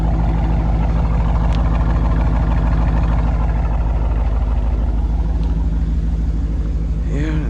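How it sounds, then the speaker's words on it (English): A Dodge Charger R/T with a resonator delete and active exhaust idles loud and close, a deep pulsing rumble with a steady throb throughout, and a brief rev swell near the end. "let's start her up. Show you guys the exhaust."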